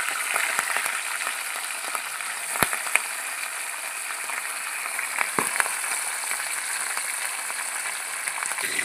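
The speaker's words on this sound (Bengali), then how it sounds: "মাছগুলো হালকা লাল করে ভেজে নেব।" Pabda fish frying in oil in a wok until lightly browned, a steady bubbling hiss with scattered crackles and pops, close and fairly even throughout.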